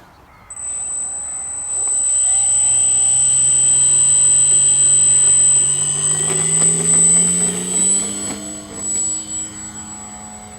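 FMS Piper J-3 Cub model plane with its electric motor run up to full power, a steady high-pitched whine that climbs and holds loud and close, with a faint tonal hum underneath and no talk.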